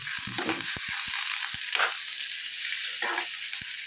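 Tomato and onion sautéing in a pan for a chicken roll filling, a steady close hiss of frying with several sharp taps and scrapes of a spoon against the pan.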